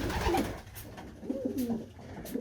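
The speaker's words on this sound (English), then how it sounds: "Such a beautiful pigeon." A pigeon at a new loft coos in soft, rolling low phrases, two or three close calls with faint rustling between them.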